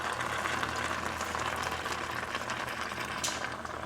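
Beef stock bubbles and sizzles steadily in a pan with skirt steak and cabbage, a constant close rolling boil with no talking.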